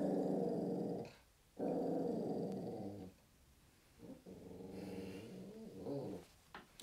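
A dog growls low and rumbling in close bursts, pausing briefly between each long rumble.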